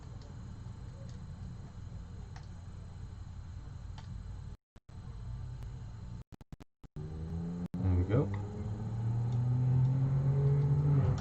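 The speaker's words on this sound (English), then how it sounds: "Noisy car going past." A loud engine roars close by and swells as a car passes, rising toward the end, with brief speech and background noise earlier.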